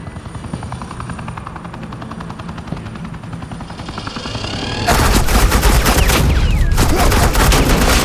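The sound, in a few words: suppressing gunfire in the video game Batman The Enemy Within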